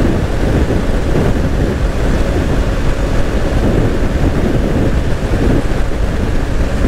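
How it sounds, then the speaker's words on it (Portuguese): Heavy wind buffeting an outdoor microphone along a dangerous road on a road trip, a loud, constant rumbling roar with no breaks and no voices. "tá muito vento"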